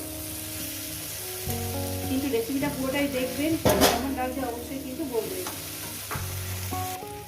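Mourala fish and potatoes fry in a pan with a loud, continuous sizzle and occasional clinks of a utensil against the pan, while a voice talks over it and background music plays.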